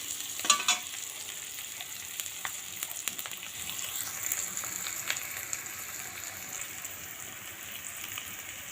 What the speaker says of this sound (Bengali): আলুগুলো ভেজে নিই, তারপর ভালো করে আলুটা একটু তেলে ভেজে নেব।